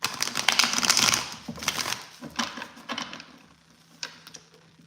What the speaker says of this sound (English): I finally have it like broken in enough to where I can even shuffle like this